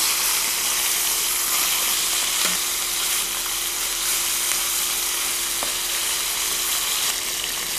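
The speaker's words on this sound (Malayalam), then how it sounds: "സ്കിൻ സൈഡ് താഴെ വരുന്ന രീതിയിൽ നമുക്ക് പാനിലേക്ക് വെക്കാം" Chicken pieces laid skin side down in a pan fry with a steady, dense sizzle that stays close and even throughout, with a couple of faint clicks from the pan and no talking.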